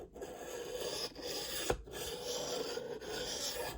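A knife is drawn across a Tumbler rolling diamond sharpener with ball bearings turning the diamond end cap, giving soft, rhythmic rasping strokes broken by short pauses and one small click.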